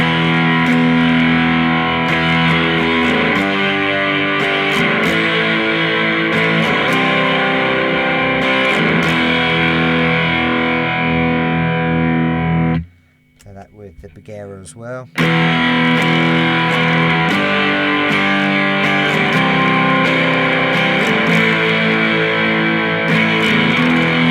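Loud electric guitar through a distortion pedal plays sustained, saturated chords and notes, cutting to a brief near-silent gap before resuming.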